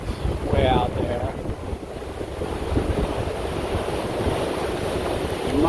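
Strong wind blowing a steady 25 knots across a sailboat under way, a continuous broadband rush and buffeting with water wash, loud and unbroken throughout with a voice faintly present.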